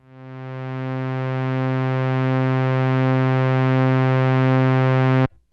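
A sustained Moog Matriarch synthesizer note with a slow envelope attack swells in gradually over about a second, holds steady and bright, then cuts off abruptly.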